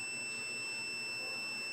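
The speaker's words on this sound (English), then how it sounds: "may long beep po siya. Ibig sabihin po, buo po yung fuse na kakabit natin." A multimeter gives a long, unbroken continuity beep while testing an intact fuse during mixer amplifier repair, a steady high tone held for the whole stretch with faint background noise.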